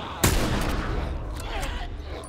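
Gunfire from the video game The Last of Us opens with a sharp loud shot followed by dense rumbling combat noise and scattered further bangs.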